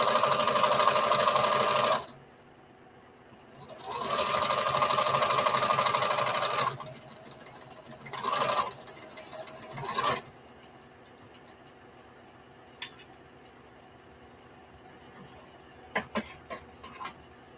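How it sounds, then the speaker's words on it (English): Sewing machine stitching bandana patchwork fabric for a T-shirt dress: loud, close whirring runs of rapid stitching, two long bursts then shorter back-stitch spurts, followed by quiet handling clicks. "And so now I'm just going to start stitching."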